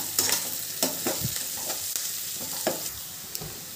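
Onions with dried red chilies fry gently in a pan for a village-style tamarind gojju, a soft steady sizzle broken by repeated scraping and knocking of a spatula stirring close by.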